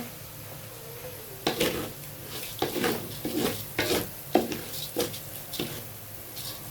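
Rice for tehari fries in ghee in a pot, stirred with a series of rhythmic scraping strokes over a faint sizzle, each stroke distinct and fairly close.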